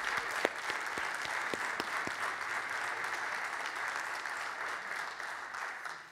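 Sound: church congregation applauding orchestra and singers

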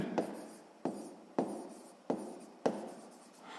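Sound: pen writing on paper

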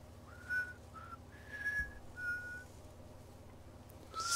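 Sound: Sam whistling a song in video game Death Stranding

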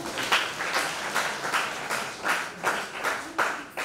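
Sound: audience clapping

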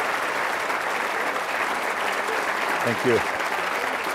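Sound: audience applause for the general

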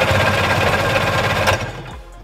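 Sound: two-stroke Sea-Doo engine cranking with throttle held wide open

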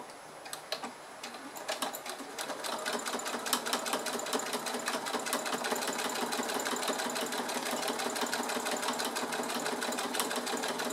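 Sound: sewing machine stitching fabric pocket seam

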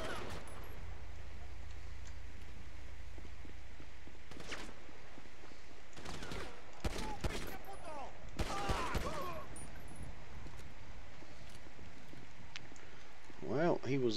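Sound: gunfire in video game GTA V LSPDFR police patrol

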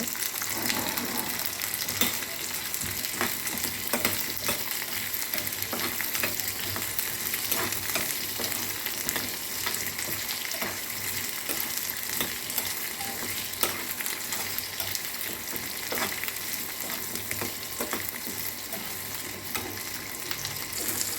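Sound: garlic, ginger and green chilies sautéing in a pan

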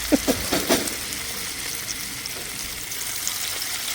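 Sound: maize vadas frying in oil

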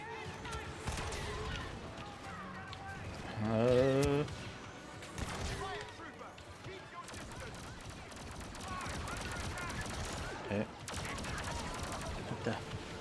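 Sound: gunfire from a video game, Star Wars Battlefront II

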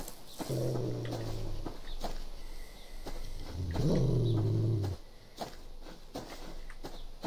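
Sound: wolf growling in the video game Subsistence

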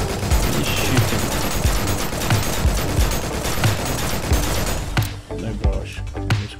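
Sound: gunfire from a video game, XERA Survival

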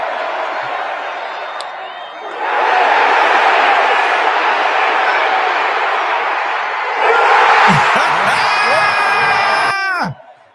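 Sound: baseball stadium crowd cheering

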